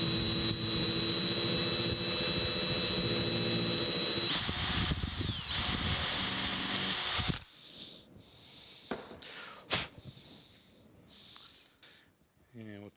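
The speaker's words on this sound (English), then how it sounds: "Using a 3/32 drill bit." A power drill bores with a 3/32 drill bit while a wood chisel's new handle is being fitted, whining steadily and loudly for several seconds before stopping abruptly, followed by quieter handling clatter and a few sharp knocks.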